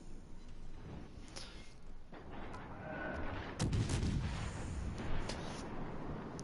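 Ship guns fire in World of Warships, a series of sharp booming shots and rolling blasts over steady battle rumble, the heaviest salvo landing midway.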